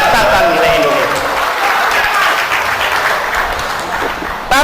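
An audience at a speech applauds in a dense, sustained patter of clapping that stays loud for several seconds, with voices mixed in.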